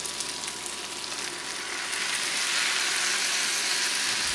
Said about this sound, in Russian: Опять все хорошо перемешиваю и продолжаю обжаривать.